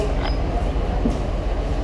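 A passenger train rolls along rails in Tenom, giving a continuous rumbling ride noise with faint clatter and a brief squeal, heard from on board.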